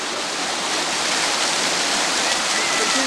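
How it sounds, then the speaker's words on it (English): Fountain water cascading steadily down in a small plaza in Rome, a dense, continuous rushing wash heard close and unbroken throughout. "These waterfalls, the fountain, and then down."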